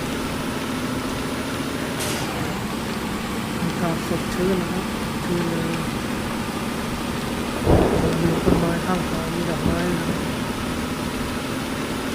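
Rain and thunder in the video game Truck Simulator 2018: continuous rainfall over a low engine hum, a sharp crack near the start and a louder thunder burst later, with a voice talking through parts.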